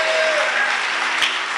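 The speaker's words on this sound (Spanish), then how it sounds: "Dele un aplauso al Señor si así lo desea" A church congregation applauds during a sermon, a short, steady wash of many hands clapping at moderate volume with no voices standing out.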